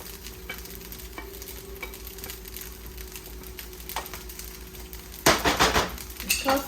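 Vegetables are stir-fried in a hot pan for shrimp fried rice: a steady close sizzle with sparse clinks, then a burst of loud scraping and clattering stirring near the end.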